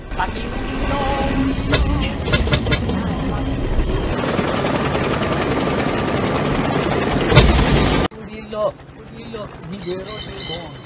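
A loud helicopter roars steadily with chopping rotor noise, then cuts off abruptly, leaving quieter background sounds, in a comedy film scene.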